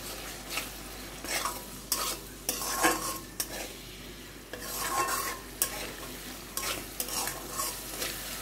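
Spices for fish kasundi are sautéed in a pan, with repeated scraping strokes of a spoon over a soft, continuous sizzle, close and fairly quiet, with no talking.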